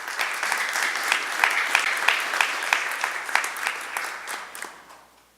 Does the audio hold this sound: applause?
yes